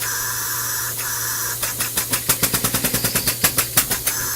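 A small compressed-air engine starts up: after a steady hiss, a fast run of sharp, evenly spaced chuffing pulses begins, close and loud, with no talking.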